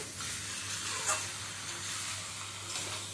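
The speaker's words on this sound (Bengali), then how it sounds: "চিংড়ি মাছ দিয়েও ভালো করে কষিয়ে নেব।" Prawns sautéing with taro in a pan give a steady close sizzle and hiss with a few brief scraping stir strokes, and no voices.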